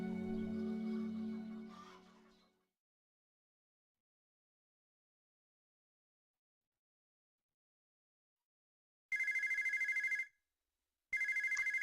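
Telephone ringing in the Alexandra Ledermann horse-ranch video game: two loud, shrill electronic ring bursts near the end, each about a second long with a short gap between them, following several seconds of silence after a fading voice.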